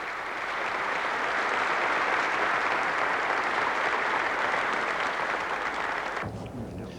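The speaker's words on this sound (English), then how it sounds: "The applause at the end was prolonged, reverberating around these old walls." Prolonged crowd applause echoing around old stone walls at a 1985 royal event in Italy, a dense sustained wash of clapping that carries on before abruptly cutting away.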